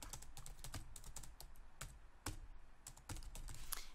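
Someone types a short note on a computer keyboard, with quick, irregular clicks of keystrokes, close and fairly quiet with no voices.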